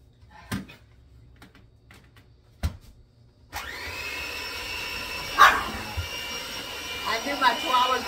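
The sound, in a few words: chihuahua barking at a kitchen appliance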